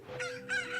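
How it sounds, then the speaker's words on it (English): A rooster in a Zelda video game crowing in two quick cock-a-doodle-doo bursts, loud and close, with no other sound around it. "My chicken!"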